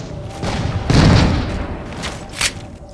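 Shotgun fire in Halo 4 multiplayer, a loud booming blast around the middle with a rumbling tail, followed by a sharper, smaller report amid dense game noise.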